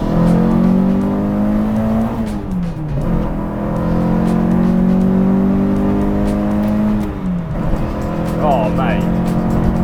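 A Renault Clio 172 engine revs hard, its pitch climbing through the gears and dipping at each shift in long sweeping pulls, loud and close, with a voice speaking over the roar.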